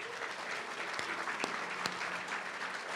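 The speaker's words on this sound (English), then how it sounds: "you guys have clapped on every other one" Steady applause from a crowd honoring a former mayor at a community center grand opening ribbon cutting, continuous clapping throughout with a few sharper claps standing out.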